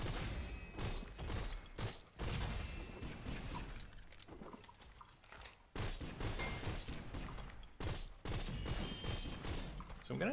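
Pistol gunfire in the shooter game SYNTHETIK 2 comes as dense bursts of shots and mechanical clatter, with brief gaps, loud and busy, while a voice talks over the action.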